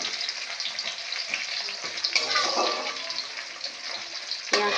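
Onion fries in oil tempered with cumin and bay leaf, a close, continuous hiss and crackle with occasional stirring scrapes and bursts of sizzle.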